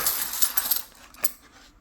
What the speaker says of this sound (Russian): И монеты сейчас тоже покажу, если кому-то интересно.